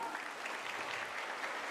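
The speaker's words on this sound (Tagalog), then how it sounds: "Isa nga pong malakas sa palakpak." Congregation applause at a church afternoon service during a mid-year camp: a steady, dense wash of clapping from a crowd, sustained evenly through the whole moment with no talk over it.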